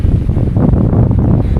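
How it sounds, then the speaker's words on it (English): Strong wind buffeting the microphone on a coast at sunset, a loud, constant low rumbling roar with no voices. "I hope it's not too windy for you guys to hear me"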